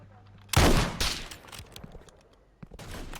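Gunfire in a video game mini-game: a loud, sharp burst of shots, then quieter rattling and a second burst near the end, with a voice talking over the action.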